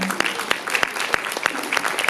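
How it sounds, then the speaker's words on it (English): Sparse applause from a screening reception audience, a handful of separate sharp claps spaced irregularly over a low room murmur rather than a full ovation. "So big round of applause for CAM."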